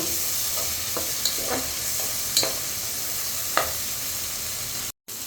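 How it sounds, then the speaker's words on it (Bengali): Spices with whole garlic cloves stir-fried in a pan for egg khichuri, a steady close hiss of frying broken by a few sharp spatula scrapes, with a brief dropout near the end. "আমি এভাবে করে মশলাগুলো কষিয়ে নেব"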